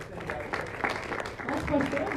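Worshippers in a church congregation applaud, their clapping rolling along beneath a voice speaking over it.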